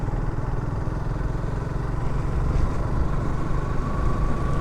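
A motorcycle rides through heavy rain on a winding hill road near Sindukchhari in Bandarban, its engine a steady close drone beneath a continuous wash of rain and road noise with no pauses.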